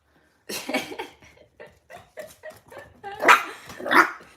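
A puppy barks and yips several times close by, in uneven bursts that grow louder toward the end, with brief quiet gaps between.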